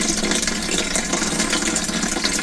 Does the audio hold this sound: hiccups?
no